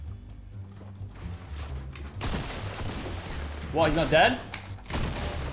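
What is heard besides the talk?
double barrel shotgun shots in a video game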